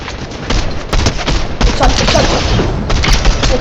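Gunfire from the video game Fortnite, a dense run of booming shots and thuds that keeps going almost without a break, loud and close, with the gameplay mix heavy throughout and no clear talk over it.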